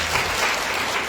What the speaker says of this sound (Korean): 박수 한번 하시죠